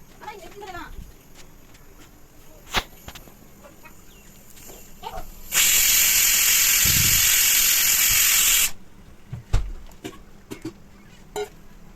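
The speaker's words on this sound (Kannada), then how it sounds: "ಈಗ ಇಲ್ಲಿ ಕುಕ್ಕರ್ 2 ವಿಷಲ್ ಆಗಿ ಕೂಲ್ ಡೌನ್ ಆಗಿದೆ." Pressure cooker whistling while cooking matki saaru (moth bean curry): one loud, steady jet of hissing steam lasting about three seconds, set between quieter kitchen clatters and faint background noise.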